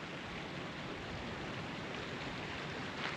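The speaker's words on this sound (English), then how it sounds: "the creek down there, and then you can hear the water flowing." A mountain creek flowing below a scenic overlook, heard as a steady, even rush of water that holds at one level throughout with no voices.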